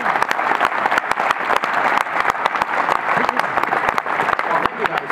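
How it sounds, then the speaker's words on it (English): Loud, dense applause from a conference crowd welcoming standing attendees at a sales presentation event, steady sustained clapping with sharp individual claps throughout and faint voices mixed in. "let's give them a round of applause"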